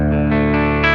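A BOSS Nextone guitar amp on transparent tone with the 6L6 power amp stage sustains a single ringing guitar chord, steady and close with slight shimmer, in a brief one-second snippet.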